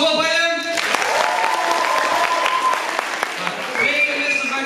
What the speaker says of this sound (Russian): Так, а мы похлопаем.